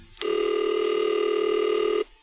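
A telephone signalling tone sounds as one loud, steady electronic note with bright harmonics, starting abruptly and holding for almost two seconds before cutting off cleanly, with no voices over it.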